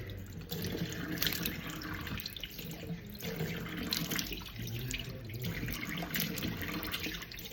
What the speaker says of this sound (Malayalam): നമ്മുടെ ടൊമാറ്റോ ഒക്കെ വാഷ് ചെയ്യാണ്